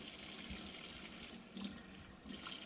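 A Norwex cleaning cloth is rinsed under a running tap, the steady broadband splash continuing throughout with a couple of brief louder surges as the cloth moves through the stream, close up and without talk.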